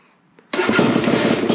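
A 2021.5 GPX TSE250R motorcycle with a Keihin PWK 38 carburetor and JD jet kit, warm from an earlier run, fires up without choke after a faint click and settles straight into a loud, rapid, steady single-cylinder idle.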